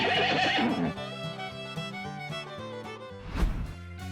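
A horse neighs loudly in a video game over steady game background music, with a second whinny bursting out near the end.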